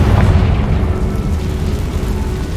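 The Confringo spell goes off in the video game Hogwarts Legacy with a loud, deep blast that rumbles on and slowly fades over a few seconds.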